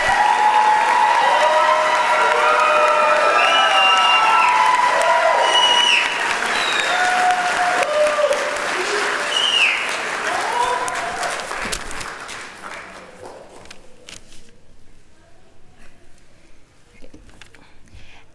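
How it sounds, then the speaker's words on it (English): A crowd at a nurse practitioner hooding ceremony bursts into sustained applause with whoops and cheers, loud at first, then thinning into scattered claps as it fades. "Let's give them all one more round of applause."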